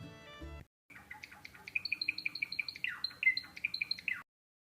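A Java sparrow chirps in a quick series of short, bright, high notes with a repeating rhythm, close and fairly clear, and no voice can be heard over it.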